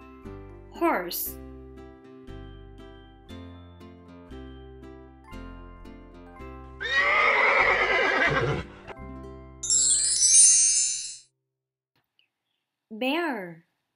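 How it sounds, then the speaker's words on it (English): Horse neighing, a loud whinny of about two seconds with a shaky descending pitch, followed by a bright chime and a brief high squeal over soft background music. "Horse."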